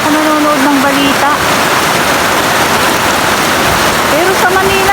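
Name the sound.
heavy rain during a typhoon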